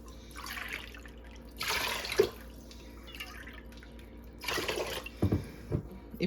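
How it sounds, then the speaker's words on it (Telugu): Water is poured into a pot of basmati rice in an Instant Pot, coming in a few short, close bursts of splashing and trickling separated by quiet pauses. "కాబట్టి 4 కప్స్ వాటర్ వేస్తాను."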